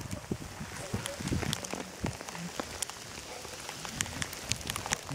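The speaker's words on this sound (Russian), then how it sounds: "Снег, да, такой вот снег идет. Крупный достаточно. Такой, что кто-то даже с градом похоже." Large wet snowflakes, heavy enough to resemble hail, fall on an April day, giving a steady close patter of soft ticks and taps across the whole stretch, like rain on a surface, with no talking.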